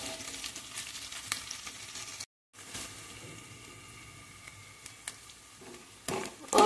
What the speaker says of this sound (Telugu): ఆనియన్స్ కాస్త వేగుతున్నాయండి.